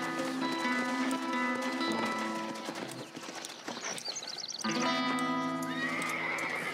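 Horses whinny loudly in Red Dead Redemption, one neigh rising after another, with clopping hooves and a tonal musical backdrop, game-like and synthetic.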